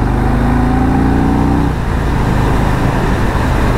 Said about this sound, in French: Allez hop, je me faufile et j'accélère.